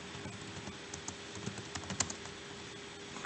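Computer keystrokes tapping steadily at a keyboard during a Microsoft Word lesson, a rapid run of light clicks with a few sharper strikes like the Enter key, close and alone over faint background hum.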